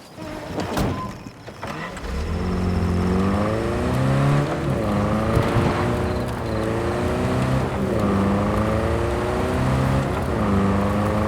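A car in Cyberpunk 2077 starts up and drives off, its engine revving through rising and falling gear changes, loud and close, after a few clicks and a thud at the start.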